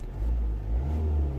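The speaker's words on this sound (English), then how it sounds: "when I rev the engine" Kia Venga 1.4 CRDI diesel engine, being checked for an intermittent engine warning light, revs up briefly in a low, close rumble that swells and then holds.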